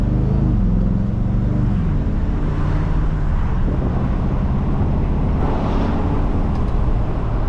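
A 2026 Aston Martin Vantage Roadster cruising at an easy pace, heard from inside as a steady, loud blend of engine drone, road roar and wind rush with no break.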